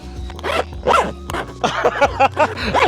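Zipper on a Zenith Lume flashlight carrying case pulled open in several quick, close rasping strokes, loud and crisp with short pauses between pulls.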